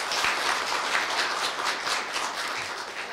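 Applause at a university staff retirement ceremony: a large audience claps in a steady, even wash, moderately loud and unbroken, with no voices over it.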